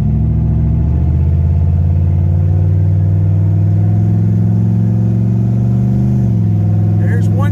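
A Foxbody Mustang with a turbo 6.0 engine and 4L80E transmission driving: a loud, steady engine drone heard from inside the car, with a pitch drop near the end as it shifts gear.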